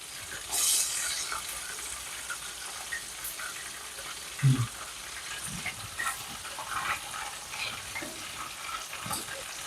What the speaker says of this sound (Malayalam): ഇനി നമ്മൾ അതിവിടെ മീൻ വറുത്തുകൊണ്ടിരിക്കുന്നുണ്ട്.